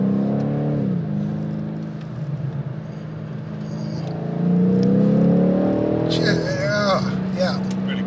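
A BMW M850i accelerates hard, its engine note piped into the cabin rising in a steady, loud drone over several seconds before swelling further near the end.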